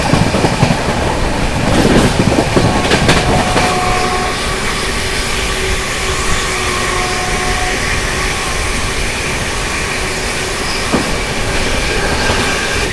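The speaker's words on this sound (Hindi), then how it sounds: "चलिए अभी आप लोग क्रॉसिंग दिखाते हैं श्री माता वैष्णो देवी कटरा से चलकर बांद्रा टर्मिनस की ओर जाने वाली स्वराज एक्सप्रेस के साथ।" Duronto Express passenger train running steadily with continuous rail rumble and wheel noise, a few sharp clanks early on as it crosses the Swaraj Express from Shri Mata Vaishno Devi Katra to Bandra Terminus, with a faint squeal near the end.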